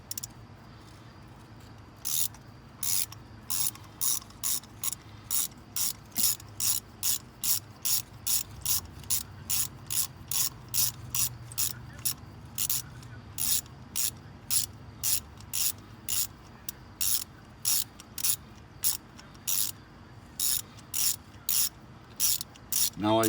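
A ratchet wrench clicks rapidly and evenly, loosening a spark plug on a 1999 Chevy Prism; the sharp, close pawl clicks come in a long regular run with only brief pauses.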